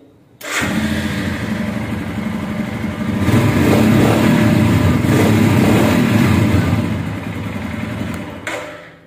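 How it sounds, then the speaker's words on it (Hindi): A 2022 Royal Enfield Scram 411 motorcycle fires up and idles with a loud, close, thumping single-cylinder exhaust note, holding steady for several seconds before cutting off. "आपको हम स्टार्ट करके इसका एग्जॉस्ट नोट जो है वो एक बार सुना देते हैं"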